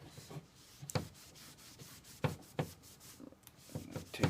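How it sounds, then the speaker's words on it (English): Paint stripper is wiped off a wooden AK-47 (RPK) rifle stock by hand. Soft, close rubbing and scraping strokes come in irregular bursts, quiet overall, with no talking. "And just wipe it down. Just kind of take the stripper off of the wood."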